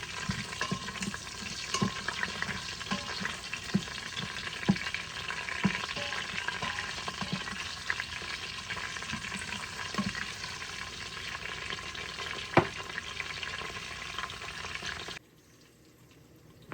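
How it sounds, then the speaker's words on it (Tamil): Garlic and dried red chilies sauté in a hot pan, a steady close sizzle of frying with occasional stirring clicks throughout, cutting off abruptly near the end. "பூண்டு, செத்தல் மிளகாய், அதையும் போட்டு வதக்கி போடுவோம்"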